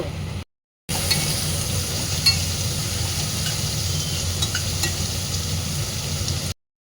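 Chow mein stir-frying in a pan gives a steady close sizzle with faint clinks of stirring, cut briefly near the start and ending abruptly.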